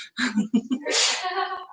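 A single sneeze, preceded by a few short sharp breaths and ending in a loud burst that trails off, close and alone.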